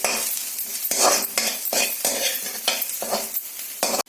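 Sliced potatoes and curry leaves frying on a tawa, stirred with a metal utensil in a series of loud scraping, sizzling strokes with a steady fry hiss between them.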